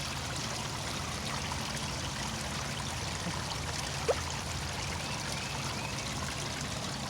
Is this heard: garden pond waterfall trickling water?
yes